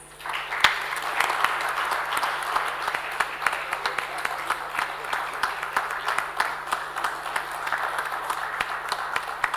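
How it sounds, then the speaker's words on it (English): An audience at a ceremony applauds steadily throughout, a sustained even wash of many hands clapping with a few sharper nearby claps, and a faint low hum underneath. "can we have a huge round of applause?"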